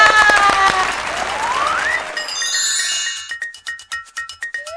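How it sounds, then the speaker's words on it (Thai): Studio applause welcoming a guest on a Thai talk show, clapping under bright chiming jingle music that gives way to rhythmic claps and tones. "ขอเสียงปรบมือต้อนรับพี่แอฟทัศออนค่ะ"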